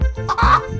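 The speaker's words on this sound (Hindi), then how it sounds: "ये है हैन।" A hen gives a quick series of clucks, three or four short throaty pulses close and loud, alone with no talk.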